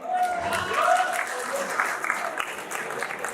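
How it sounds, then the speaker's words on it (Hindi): Crowd of students at a coaching-class meetup in Shamli applauds in a sustained, fairly loud wash of clapping, with voices and shouts mixed in throughout. "एक बार फिर जोरदार तालियों से स्वागत करें।"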